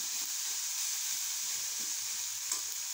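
Onion, ginger and garlic masala sautés in a pan with a steady, bright sizzle and hiss, close and continuous, with a faint stir or scrape near the end.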